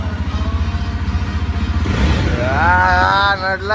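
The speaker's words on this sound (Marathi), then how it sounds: "दे ना एकदा रेस दे ना" A motorcycle engine idles with a steady low throbbing pulse, then is revved up so its pitch climbs and wavers loudly, with people talking nearby during a Diwali outing.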